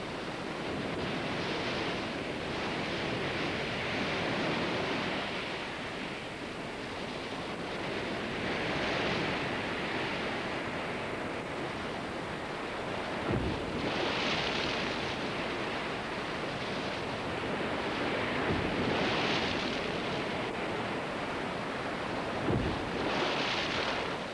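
Ocean waves surge and break against the rocky shore of a penguin island, a steady roar of surf with periodic swelling crashes and a few heavier thuds, wind blowing across the scene, no voices.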